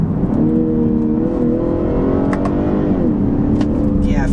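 Engine of a 2020 BMW 540i xDrive with an 8-speed automatic, rising in pitch and then blipping up on quick manual downshifts, a steady loud in-cabin drone throughout with brief speech.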